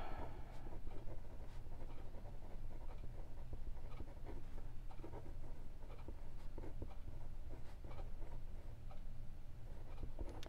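Pen scratching across paper with short strokes and light taps, close and quiet, continuous for several seconds with a low steady hum behind it.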